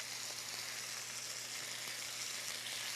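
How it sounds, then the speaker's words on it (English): Beef sizzles steadily in a hot frying pan for a stir fry, a constant loud crackling hiss with no talking. "You want to hear that sizzle when you put it in there."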